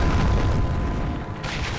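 A loud, close explosion in the American McGee's Alice game, a sustained booming rumble with a second burst flaring near the end.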